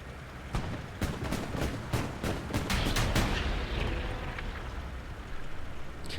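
Gunfire in a World War II tank video game, with a Stuart tank being shot: rapid cracking shots and heavy booming blasts in dense, overlapping bursts, loud and continuous.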